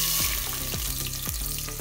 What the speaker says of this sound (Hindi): फ्राई कर लेंगे प्याज को